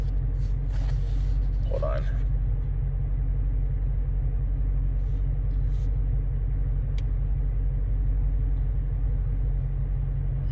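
A car engine idles steadily while warming up, a low constant rumble running throughout with brief nearby speech over it.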